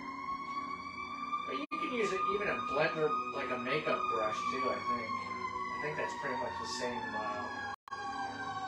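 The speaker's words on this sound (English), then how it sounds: "Sorry for the sirens" Fire engine sirens wail, rising and falling steadily in the distance, while a person keeps talking over them.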